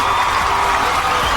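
A studio audience applauding on a Kannada television special show, a dense, steady wash of clapping that stays loud and even throughout.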